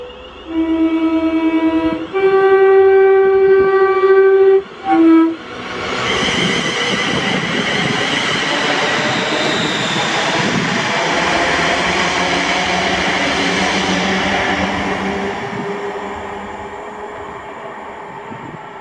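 Loud two-tone horn blasts from class 37 diesel locomotives 37516 and 37518, then the train roars past at speed through Prestwick Town, a swelling rush of engine and rail noise that slowly fades.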